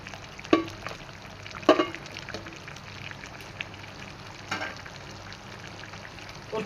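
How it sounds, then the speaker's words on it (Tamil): Tomato sauce with carrot, capsicum, bell peppers, mushroom, zucchini and broccoli bubbles steadily in a pan, giving a soft continuous sizzle broken by occasional louder pops and stirring knocks, with no talking. "இப்போ நம்ம டொமேட்டோ சாஸ் நல்லா கொதிச்சுட்டு இருக்குது."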